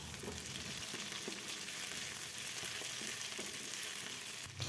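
Green chillies sautéing in a pan with bay leaf, galangal and ginger, a steady close sizzle of frying with faint stirring scrapes throughout, no voices.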